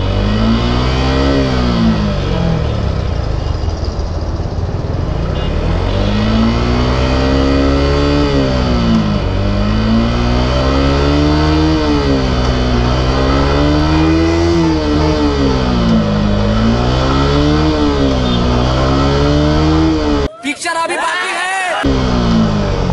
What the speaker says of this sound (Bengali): চলেন এখন দেখি যে বাইকটা ডাবল স্ট্যান্ড করে ৫ নম্বর গিয়ার অবধি কতটুকু স্পিড উঠে।